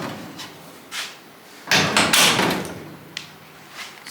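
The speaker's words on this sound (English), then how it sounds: "Can I shut this door?" The door of an Apache truck under body repair shuts with a solid thud, followed by a brief clatter and a few lighter taps in a workshop.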